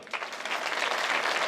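Audience applause during the closing award ceremony of a film festival, a steady, close burst of many hands clapping that builds slightly over a second and a half.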